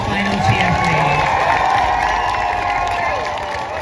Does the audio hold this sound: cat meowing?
no